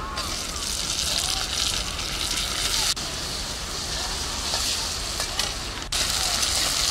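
Tomatoes and chopped onion fry in hot mustard oil with a steady, broad hiss and sizzle, close and continuous, with a couple of brief clicks.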